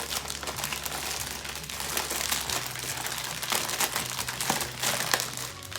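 Plastic zip bag with homemade playdough inside being squeezed and kneaded by hand, a steady, close, continuous crinkling and crumpling with no pauses and no talking.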